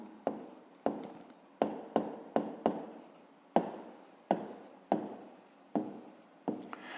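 A pen writing on paper during a fifth-grade maths exercise, with a steady series of short, close scratching strokes, each starting sharply and fading, in a quiet room with no talking.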